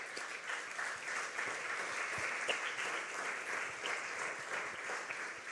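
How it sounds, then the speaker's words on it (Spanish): Congregation applause during a Spanish-language church service, a dense steady wash of many hands clapping together at moderate distance, sustained evenly throughout without speech. "Denle un aplauso a Dios por eso, porque es maravilloso."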